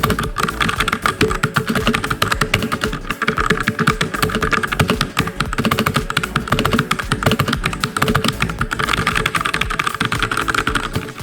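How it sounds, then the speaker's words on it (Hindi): Fast continuous typing on a Royal Kludge RK71 mechanical RGB gaming keyboard, dense rapid clacking keystrokes recorded close to the microphone, loud and alone without talk. "अब यहाँ पे मैं आपको इसके ऊपर टाइप करके दिखाऊंगा, माइक को थोड़ा करीब रखूँगा, आपको अंदाज़ा हो जाएगा कि मैकेनिकल कीबोर्ड किस तरीके से काम करता है।"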